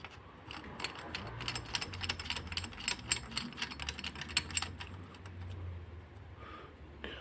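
Rapid ratchet clicking from a socket tool snugging a bolt on a Ford Falcon column shift pulley, fairly close and steady in repeated bursts across the whole span, with faint low hum underneath and no talking.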